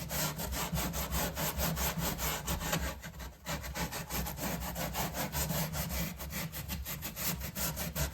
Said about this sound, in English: I'm just going to sand this area smooth.